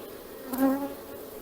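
Honeybees buzz at a beehive nucleus, a single bee passing close by with a brief rising and falling drone over a soft background hum.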